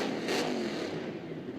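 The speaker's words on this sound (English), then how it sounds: "Listen to the blower whine." Supercharged Toyota Corolla drag car at Sydney Dragway, a loud, steady engine drone with a rising high whine from the blower, a brief brighter burst early on, holding strong throughout with no talking.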